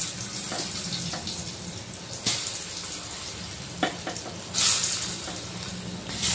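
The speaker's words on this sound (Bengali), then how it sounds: "এবার আমি ওই তেলের মধ্যে কেটে রাখা বেগুনগুলো নুন হলুদ মেখে দিয়ে দিলাম।" Brinjal pieces coated in salt and turmeric fry in oil for a vegetable fish curry, a continuous close sizzle broken by a few sharp spatters and clinks.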